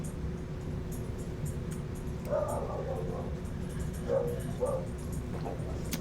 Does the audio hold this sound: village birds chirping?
no